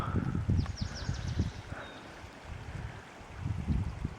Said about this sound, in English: You can see a large stream just coming out of the ground, out of the side of this hillside.